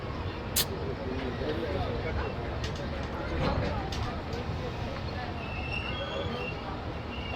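Brahmaputra Mail train pulling into Barpeta Road station on a rainy evening: a low continuous rumble of rolling carriages with faint wheel squeals and clanks, under intermittent speech nearby.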